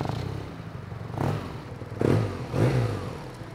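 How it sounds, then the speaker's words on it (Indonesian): A BMW R NineT boxer motorcycle engine fires up with a low rumble, then gets blipped twice in quick succession, each rev rising and falling, fairly close. "Raungan suara boxernya memang khas banget BMW."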